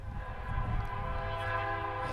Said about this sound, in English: Got the train going in the background there.